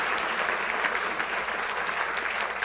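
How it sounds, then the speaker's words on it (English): An audience at an awards ceremony applauds in a steady, dense patter of many hands clapping close by, with no voices standing out. "that would be the time when you would clap"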